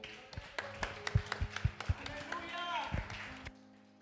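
A church congregation claps for the Lord during a Spanish-language teaching service, scattered uneven claps building into brief applause, moderately distant, with talk underneath.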